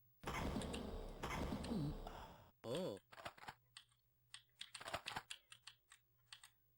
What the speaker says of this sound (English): You're going to hear a lot of key presses and mouse clicks.